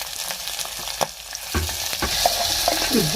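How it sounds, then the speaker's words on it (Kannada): Peas, beans and carrots frying in ghee, a close crackling sizzle with a few sharp spoon knocks and stirring scrapes over a few seconds, no voices. "ಇದನ್ನ ಹಾಕಂದ್ರೆ ಸ್ವಲ್ಪ ತುಪ್ಪದೊಳಗೆ ಫ್ರೈ ಮಾಡೋಣ ಇದನ್ನ"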